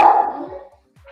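A dog gives one loud, close bark that trails off, followed by a short fainter yelp near the end; no talking.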